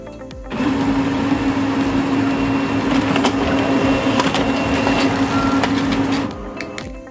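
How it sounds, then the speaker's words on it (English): An HP LaserJet Pro 4001n laser printer runs a test page, a steady mechanical whir with a constant hum and small clicks that starts abruptly, holds for several seconds, then stops. "We'll print a test page with a variety of font sizes and colors to assess the printer's true performance."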